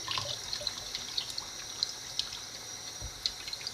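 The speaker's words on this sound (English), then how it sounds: "I'll run my arm underneath the sink here real quick." Water from a bathroom sink tap runs over a forearm, a soft, steady trickle with small irregular splashes and drips, fairly quiet and without voices.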